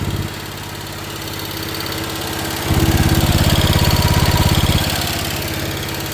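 The engine of a 1973 John Deere 140 H3 garden tractor runs with a steady rapid chug, then labors louder and deeper for about two seconds as the deadheaded hydraulics load it, before easing back; no talking.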